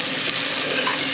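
Ginger frying in oil in a pan for a Chennai-style chicken curry, a steady bright sizzle with faint stirring scrapes, close and continuous.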